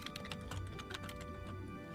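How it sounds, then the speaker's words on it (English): Rapid, uneven clacking of keys on a keyboard fills a quiet room during a tabletop game session, a dense run of quick taps with no voices. "DM furiously typing"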